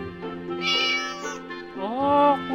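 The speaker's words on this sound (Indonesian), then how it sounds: "Oh, kucing." A cat meows in the video game Harvest Moon: Light of Hope, giving two clear, close meows one after the other with rising and falling pitch, and no talk.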